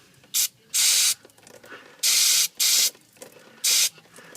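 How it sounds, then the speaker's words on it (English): Several sharp hissing bursts from an aerosol can of brake cleaner sprayed onto a car's transmission lines, some short and some longer, separated by brief pauses with faint clicking in between. "get a bit of brake cleaner in there."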